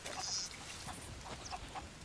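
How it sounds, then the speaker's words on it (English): Chickens in the pirate video game Sea of Thieves give a few short, scattered clucks and squawks over a soft steady game ambience, with no one talking. "It would appear that there's chickens here."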